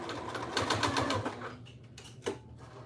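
A sewing machine stitches with a rapid, steady mechanical rattle close by for about a second and a half, then slows and stops, leaving a few faint clicks and a brief knock.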